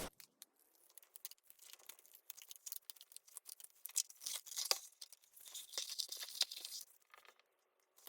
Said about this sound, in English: let me just straighten up the canvas by peeling the cover paper